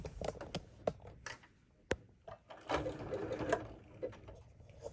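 A sewing machine runs in short bursts, zigzag stitching across the corners of a fabric gift bag, with sharp mechanical ticks and clicks between runs, close and quiet.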